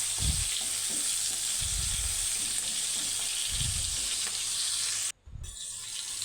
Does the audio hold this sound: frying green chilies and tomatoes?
yes